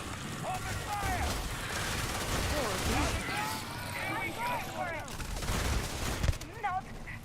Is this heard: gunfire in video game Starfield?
yes